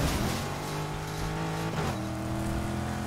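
A car in the racing game Need for Speed Heat drives with a steady, loud engine drone that holds throughout and dips briefly midway, with no talking.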